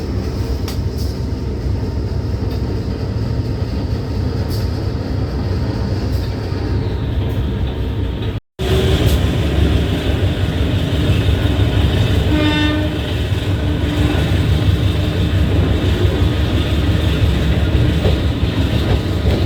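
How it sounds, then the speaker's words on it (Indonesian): A night commuter train from Blitar to Surabaya, Indonesia, rumbles steadily along the rails with continuous heavy rolling noise and a brief horn blast partway through, loud and close. "kereta diberangkatkan menuju ke arah Surabaya"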